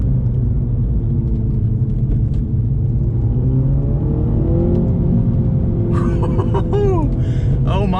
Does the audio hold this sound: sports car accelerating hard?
yes